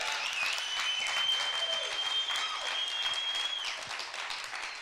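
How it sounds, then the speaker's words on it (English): Audience at a fellows summit and congress applauding together, a steady dense wash of clapping that holds loud and even through the whole stretch, with no break. "Let's give ourselves a round of applause."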